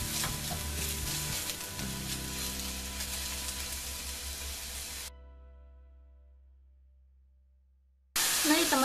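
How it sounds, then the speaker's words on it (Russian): Mushrooms sizzling in a pan with already-fried onion and carrot, a loud continuous hiss close by for about five seconds before cutting out, then returning briefly at the end. "Добавляем грибы. И протушиваем вместе с луком и морковкой."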